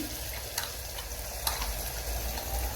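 Onions frying in oil for a homemade mutton curry, a continuous loud sizzle with occasional crackles and pops, close up, lasting a few seconds with no talking.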